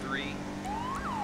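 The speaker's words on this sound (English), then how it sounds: "It's hard to hear it over the sirens." Police car sirens wail in a police role-play video game, rising and falling tones sweeping through the short stretch over a constant engine-like rumble, loud and close.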